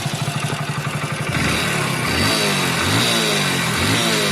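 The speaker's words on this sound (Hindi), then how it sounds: "तो ये टाइमिंग चैन की बहुत ज़्यादा साउंड कर रही है" A Hero Splendor BS6 fuel-injected motorcycle engine idles with a rhythmic chugging, then revs up; a rattling clatter from a noisy timing chain runs underneath, close and loud, with no speech.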